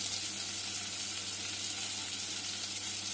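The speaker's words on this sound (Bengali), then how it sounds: "ক্যাপসিকামটা দিয়ে আমি একটু ভালো করে ভেজে নেব" Half a capsicum fries in a hot pan, making a continuous close, even sizzle throughout with no voices.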